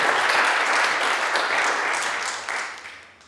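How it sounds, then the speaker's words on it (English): A round of audience applause at an on-stage conversation about music and composition, steady dense clapping from a crowd that carries on without pause and fades out near the end. "a round of applause still"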